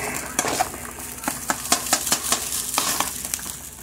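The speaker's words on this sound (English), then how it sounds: "You keep stirring that rice, and that rice will absorb all you give it" Rice frying in a hot pan for coconut chicken fried rice hisses steadily while a utensil scrapes and taps against the pan in quick repeated strokes, close and fairly loud, with no speech.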